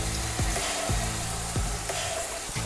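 Tomatoes with ginger garlic paste frying in a pan for Dindigul-style mutton biryani, a steady close sizzle with a few stirring scrapes and clinks at intervals, no talking.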